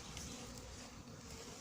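Hornets buzzing around beehives in a bee yard, a steady close insect drone holding level throughout without pause, with no voices over it.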